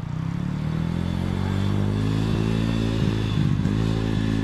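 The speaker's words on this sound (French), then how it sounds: "Allez Alex il est parti en moto" A motorcycle rides off in a national park setting, its engine a loud, steady drone with low harmonics that hold and rise slightly, with some mechanical clatter throughout.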